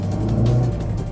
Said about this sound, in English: Just listen to that throaty engine sing.